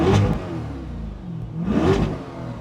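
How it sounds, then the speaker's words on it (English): Chevrolet Corvette C8 Stingray engine blipped twice, each rev rising sharply then falling back to a rumbling idle; loud and close, with no talking. "So we'll just do a quick little rev."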